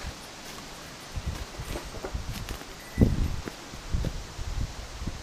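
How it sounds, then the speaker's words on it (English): Wind moves through trees on a windy day on Cairn Mountain among old windfalls, a soft, quiet rustle broken by scattered knocks and creaky scrapes, the sharpest one near the middle. "Trees scraping and creaking everywhere"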